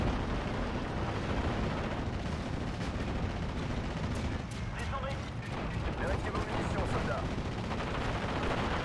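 Panzerwerfer rocket strikes in the WWII strategy game Steel Division: Normandy 44 among Normandy hedgerows: a dense barrage of rumbling explosions with clustered sharp bursts in the later half. Someone talks over the battle noise.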